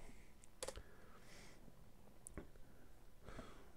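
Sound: typing on computer keyboard in DOS game Funnels & Buckets

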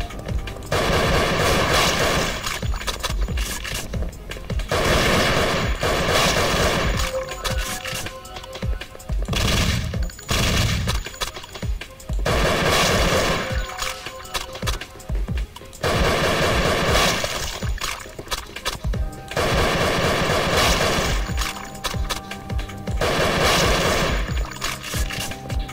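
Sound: gunfire from the video game Thing Thing 4

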